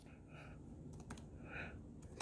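Someone types on a NexDock Touch laptop-style keyboard, producing a few faint, soft keystroke clicks in short bursts against a quiet background.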